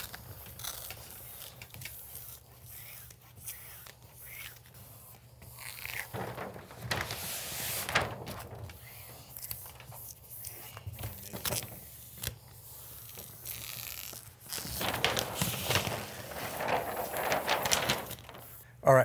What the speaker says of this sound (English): slowly I just pull the liner back a couple inches at a time